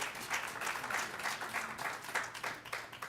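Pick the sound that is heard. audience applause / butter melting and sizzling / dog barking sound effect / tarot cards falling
audience applause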